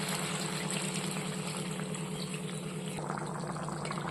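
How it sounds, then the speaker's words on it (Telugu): Water pours into a pan of chicken curry on the stove to make gravy. A steady rushing, bubbling pour runs for a few seconds, close and fairly loud, and then eases off toward the end with no talk. "ఇప్పుడైతే వాటర్ యాడ్ చేస్తున్నానండి."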